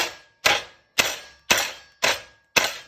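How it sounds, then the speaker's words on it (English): Five sharp, evenly spaced bashes crushing peanuts land about half a second apart, each a loud crack with a ringing tail, close by and without talk. "going to give them a bash with it now."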